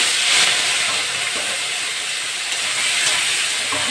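Steady loud hiss and crackle of prawns sizzling in hot oil, continuous throughout with no talking.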